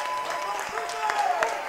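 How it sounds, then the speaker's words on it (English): A hockey arena crowd applauds the home team after the second period ends tied 3-3, a steady wash of clapping with a voice carrying over it. "A solid round of applause for the home side this time around"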